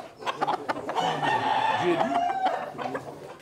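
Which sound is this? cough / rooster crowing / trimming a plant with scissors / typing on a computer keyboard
rooster crowing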